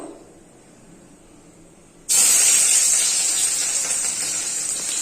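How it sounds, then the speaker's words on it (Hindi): Chopped onions dropped into very hot oil, a sudden loud sizzling hiss that starts abruptly and holds steady close up. "एबे आमे पकेइबा काटिकी रखिथिबा प्याज"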